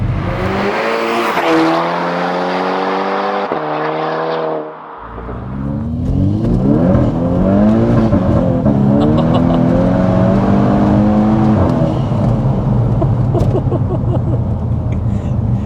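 Tuned Stage 2+ VW Scirocco R revving hard while fighting for traction, loud and close, with rising and falling engine pitch across gear changes, a brief dip, then sustained high-rev acceleration with tyre noise and faint talk beneath.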